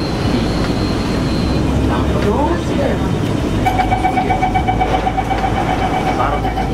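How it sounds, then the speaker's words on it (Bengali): A Singapore metro train moving along the track gives a loud, continuous rumble with a steady mechanical whine rising partway through, while voices talk over the noise. "অনেক নয়েজ হচ্ছিল ট্রেন মুভ করার কারণে।"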